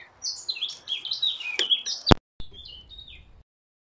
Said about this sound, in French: C'est pour ce chant d'oiseau là.